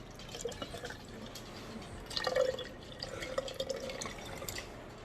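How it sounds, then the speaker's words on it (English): Juice poured from a home-canned jar into another jar in a kitchen, heard as a close, trickling liquid stream with light drips and glassy clinks, no talking. "I'm going to pour the juice out into another jar."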